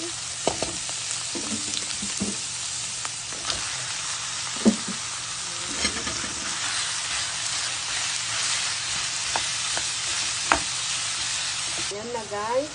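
Ground meat frying with garlic and onion in a pan makes a steady, close sizzle with occasional stirring scrapes and clinks, while a voice briefly speaks in the background.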